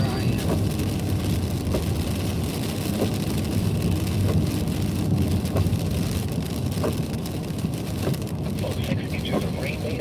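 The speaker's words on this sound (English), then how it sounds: "some lightning, some heavier rain just on the edge of where I am." Heavy thunderstorm rain in upstate South Carolina drums as a dense, continuous wash, heard from inside a moving vehicle with a low road rumble beneath and scattered sharper drop hits throughout.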